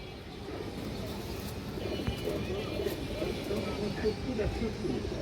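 Pigeons, including a red khaki female running pigeon, make a low, continuous murmur of soft cooing at moderate distance, with faint background noise throughout.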